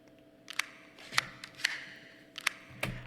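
A military grade tactical flashlight being switched on gives a handful of sharp, quiet clicks spaced irregularly over a few seconds, with no voices.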